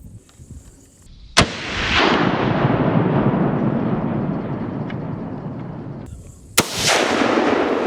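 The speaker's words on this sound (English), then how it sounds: "It's a shot." Gunshots fired at a wild boar outdoors: two sharp, loud cracks several seconds apart, each followed by a long, broad rushing roar of echo and wind, with no voices.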